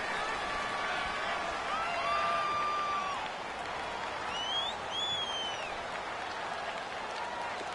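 Dense stadium crowd roar from an American football video game on PS4, a steady loud wash of cheering and noise with whistles and whoops rising over it, continuous throughout.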